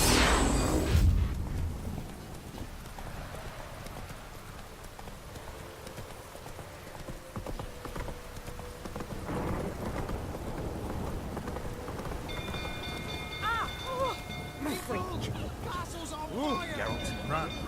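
Horse hooves clip-clop steadily through The Witcher 3 game world, a continuous close trotting rhythm over rain-like ambience, with brief voices and game sounds later on.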